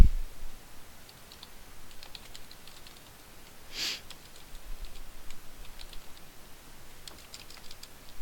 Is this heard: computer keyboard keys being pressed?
yes